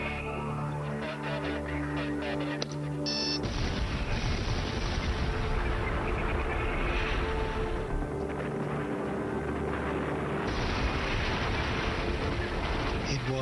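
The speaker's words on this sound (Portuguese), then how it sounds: "A explosão parecia fogos de artifício." Dynamite charges blasting at the ends of the Itaipu dam canal on the Paraná River: after a steady rumbling start, a loud broadband roar erupts and rolls on continuously like a long far-off explosion, with wind-like noise throughout.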